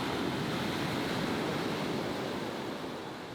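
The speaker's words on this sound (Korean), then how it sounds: "섬에서 산다는 건 저 세찬 파도를 온몸으로 맞으며 살아간다는 뜻이기도 합니다." Strong sea waves crash and surge against the rocky shore of a remote island in a typhoon-prone area, a loud, continuous roar of surf with wind that stays steady and fades slightly at the end, with no voices.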